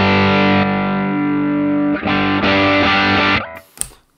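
Distorted electric guitar played through a Line 6 Helix modeler amp on 3.15 firmware, with loud sustained chords ringing out, a brief break, then more chords cut off into a short sharp noise at the end.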